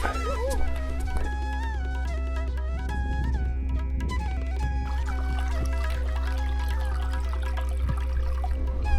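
Water trickling and gurgling beneath the ice of a frozen mountain river on a high Himalayan trek near Gokyo, a steady faint flow with small bubbling tones over a low hum, no voices.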